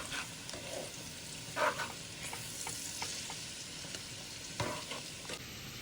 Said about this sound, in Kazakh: қуырылып жатқан саңырауқұлақтың үстінен барлық дәмдеуіштерімізді бірге қосамыз да барлығын жақсылап араластырамыз